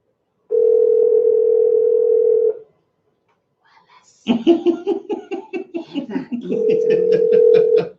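A telephone call ringing out to voicemail: a steady ringback tone sounds for about two seconds, goes silent while people laugh and talk, then sounds again near and clear.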